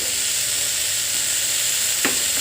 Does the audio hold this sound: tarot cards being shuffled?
no